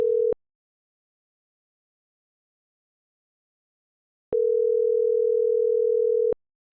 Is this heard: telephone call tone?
yes